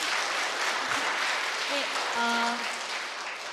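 A church congregation applauds together during a youth devotional worship service, a steady wash of clapping filling the room, with brief tonal sounds and a short spoken word over it.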